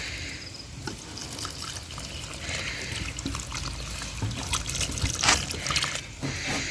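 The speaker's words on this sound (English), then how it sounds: "Then we'll go ahead and add our water." Water being poured into a pot for a pineapple-ginger drink, a steady close liquid trickle and splash running for several seconds without talk.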